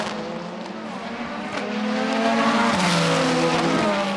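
Endurance race cars scream past at the 2022 6 Hours of Monza, a loud continuous engine roar with rising and falling pitch as several cars pass close by, one after another.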